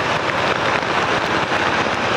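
Heavy rain pours over Saigon streets while riding through the city, a loud, dense, unbroken hiss that fills the short stretch without voices.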